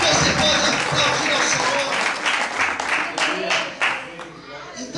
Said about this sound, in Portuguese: Será que você pode aplaudir a Deus por isso?